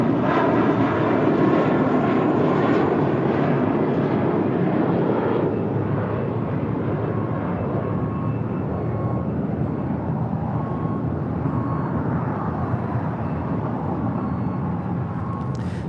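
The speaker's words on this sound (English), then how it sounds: "Taking off there, that was JetBlue Airways Flight 2885 heading to Miami, Florida in an A321." A JetBlue Airways Airbus A321 takes off from an airport runway, its jet engines a loud, sustained roar that slowly fades and thins as the aircraft climbs away.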